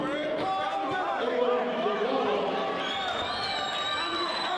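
A boxing crowd at a Hub City Fight Night amateur bout swells with steady chatter and rising cheers, a dense, continuous wash of voices with a commentator talking over it.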